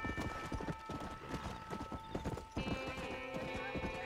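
A horse galloping in the Western video game Red Dead Redemption: a steady, close clip-clop of hooves that runs throughout, with a brief whinny mixed in.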